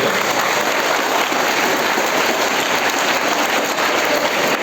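Audience members at an anti-drug motivational class applaud on request, a loud, continuous wash of many hands clapping that holds steady from start to finish with no voices over it.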